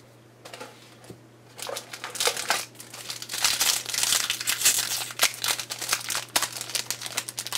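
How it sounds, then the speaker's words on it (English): Crinkling foil wrappers of Yu-Gi-Oh card packs from a 2015 Odd-Eyes Pendulum Dragon Mega Tin being torn open and handled, a steady run of close, bright crackling rustles over a low constant hum. "I guess it's actually easier to open up these packs like this, I think."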